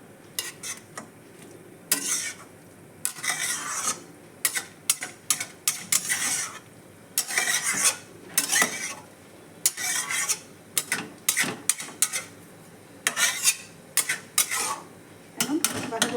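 Cabbage with salt and turmeric is stirred in a pan. A spatula scrapes in quick, repeated bursts of clattering strokes that run almost continuously, close and fairly loud.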